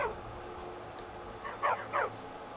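A dog in the Skyrim video game gives two short, fairly soft barks close together over a low game background hum.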